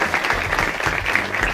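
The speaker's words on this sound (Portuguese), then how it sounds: "Uma salva de palmas, sejam muito bem-vindos à Câmara dos Deputados e à Ocupação." Brief applause from an audience at a youth debate event in Brazil's Chamber of Deputies, a steady dense patter of clapping at moderate loudness.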